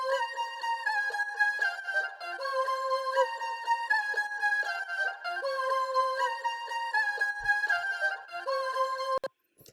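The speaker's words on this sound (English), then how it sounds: "Just like a little flute kind of thing going on here." Synthesized music track built in the Output Arcade VST, with a light flute-like melodic line over layered sustained tones, playing steadily and cleanly throughout before cutting off abruptly at the very end.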